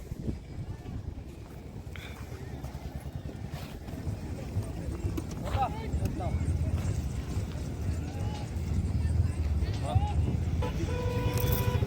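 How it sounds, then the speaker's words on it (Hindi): Hooves of a Sindhi-breed horse clip-clop steadily on the ground amid outdoor crowd noise, with people talking throughout and the footfalls growing slightly louder toward the end. "सिंधी बछेरी यादव का घोड़ा है, पंचिया।"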